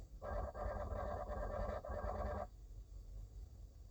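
A burst of rapid electronic chirping and warbling tones from a robot dog swarm communicating lasts about two seconds, then cuts off, leaving a low background hum.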